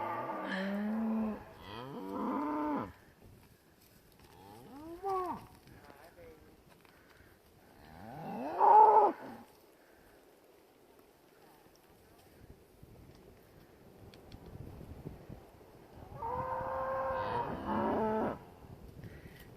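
Cattle in a farm pasture moo several times, a couple of long low calls near the start, another around the middle and one more toward the end, close and fairly loud with quiet gaps between.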